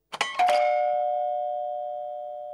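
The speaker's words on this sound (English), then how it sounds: "Just then the doorbell rang." A doorbell rings once with a two-note chime, the second tone ringing out clearly and slowly fading in a quiet room.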